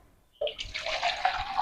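Lukewarm water pours into a vessel for rubber neti nasal cleansing, a sudden close splashing stream that starts abruptly and runs steadily to the end, no talk.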